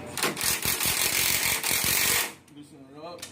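A ratchet loosens the two 3/4 bolts on a bagger motorcycle's rear shock during an air ride suspension install, giving a loud, fast run of clicks that stops abruptly. Fainter clinks and rustling follow.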